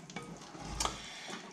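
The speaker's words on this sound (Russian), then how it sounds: "Растапливаю сливочное масло, поэтому сковородку особо не калим" Butter melting in a frying pan on fairly low heat before frying perch, giving a soft, steady sizzle with faint crackles and a brief louder burst near the middle, close and quiet, with no talking.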